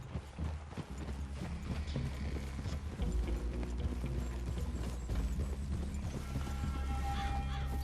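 Horse hooves clip-clopping in a steady rhythm in Red Dead Redemption 2, close and continuous, with a low rumbling background underneath.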